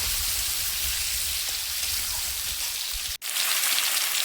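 Taro pieces frying in hot oil with five-spice for a fish curry, giving a steady, dense sizzle and crackle throughout that breaks off abruptly for an instant near the end before resuming, with no talking.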